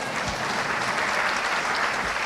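Audience applause at an awards ceremony, a steady, dense patter of many hands clapping at an even level for a couple of seconds, moderately close.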